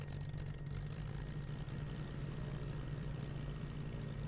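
Propeller aircraft engines running at a steady low idle in Microsoft Flight Simulator X, a constant heavy droning hum with no pauses, close and even throughout.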